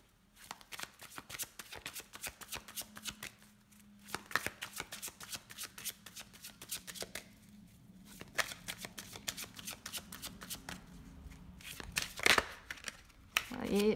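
Oracle cards are shuffled and cut by hand, producing rapid close riffling and flicking clicks in uneven bursts with soft taps, heard alone and fairly quiet.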